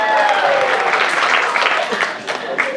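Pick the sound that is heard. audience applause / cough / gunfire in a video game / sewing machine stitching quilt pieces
audience applause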